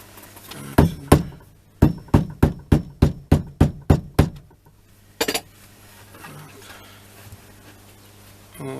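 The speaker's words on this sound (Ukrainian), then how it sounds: "Цю складку на носку надо разбить її трошки молоточком" A small hammer taps sharply on the toe fold of a shoe sole about a dozen times in a quick steady run, pauses, then strikes twice more, close and crisp in a quiet room.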